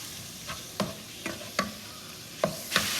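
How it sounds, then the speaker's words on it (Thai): Pork being stir-fried in a pan, with a steady sizzle behind about six sharp scrapes and clacks of a utensil against the pan at an irregular pace. "อันนี้คือรวนเนื้อหมูให้สุกก่อนนะคะ"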